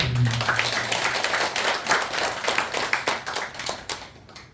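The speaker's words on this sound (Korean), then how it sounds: "우리 박수 한번 부탁드립니다." Audience applause at a Buddhist dharma talk in a Korean temple: a steady patter of many hands clapping at moderate distance, fading out toward the end.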